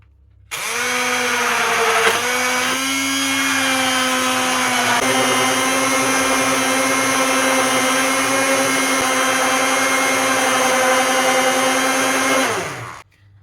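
A hand blender whisking buttermilk whirs steadily for about twelve seconds, a continuous high motor drone with a brief pitch dip early on, close and loud.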